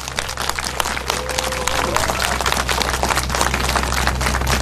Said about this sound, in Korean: 여러분 힘찬 격려의 박수 보내주시기 바랍니다